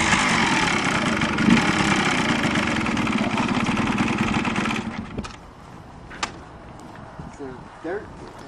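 A Yamaha Blaster 200 ATV engine, fitted with new reeds and a new coil, drones loud and close for several seconds, then cuts out, leaving a few knocks and a voice.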